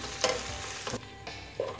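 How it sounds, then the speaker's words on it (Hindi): Chicken macaroni stirred in a pan over a high flame: a soft frying sizzle broken by several distinct scraping stirs at irregular intervals. "इस तरीके से आपस में मिक्स करते हुए जो है हाई फ्लेम पर पकाएं"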